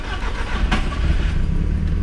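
A carbureted Volkswagen Rabbit engine fitted with an FT450 fuel system catches and runs, a loud close mid-range roar with a sharp burst as it fires, then settling into a rough steady idle.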